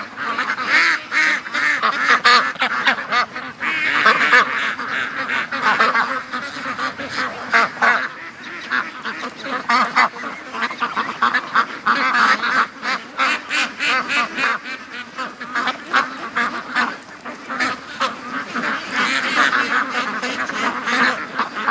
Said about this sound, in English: I know, ducks.